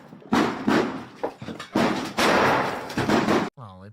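A series of loud, booming flashbang grenade blasts and heavy bangs in quick succession during a police raid, with voices shouting briefly at the end.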